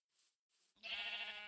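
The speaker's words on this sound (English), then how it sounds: "here's my sheep farm" Sheep on a farm in a video game bleat, two short soft breathy calls followed by a louder, sustained wavering bleat, close and clear with no talking.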